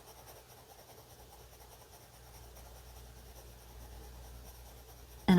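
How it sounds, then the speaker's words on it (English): An HB pencil held on its side shades across paper with a soft, continuous scratchy rub, faint and steady, ending in a louder bump. "Now for the shading, I'm using my HB, and I'm going to use the side of my pencil."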